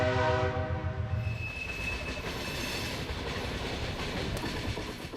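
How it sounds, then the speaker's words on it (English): An old train opens with a fading horn, then rumbles past steadily with continuous clicking and ticking of wheels on the rails, close and fairly loud throughout. "That old train clicks and ticks through my life like the hands of time."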